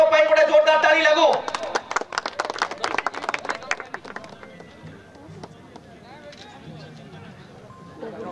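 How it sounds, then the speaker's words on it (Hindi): Crowd applause for the man of the match at a cricket presentation ceremony, a burst of loud clapping that thins into scattered claps and background chatter, with a voice over a loudspeaker at the start. "राजकुमार को पय बड़े जोरदार ताली लागो"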